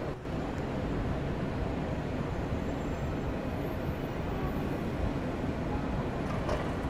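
Steady rumbling roar of a New York subway E train in motion, a dense broadband noise holding level throughout, with faint high squeals from wheels or brakes near the end.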